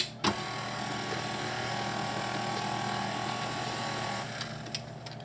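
Egg mixture with added essence given a quick mix for a raspberry bundt cake, heard as a steady, close mechanical whirring with faint clicks throughout and a brief knock near the start.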